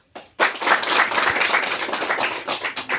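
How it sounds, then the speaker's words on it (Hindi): An audience at a school gathering honouring a Class 10 JAC Board topper claps for the student: a dense, steady patter of many hands that starts abruptly and continues, fairly close and loud, after a brief quiet start. "उठा के ताली आप लोग थोड़ा सा मारिएगा"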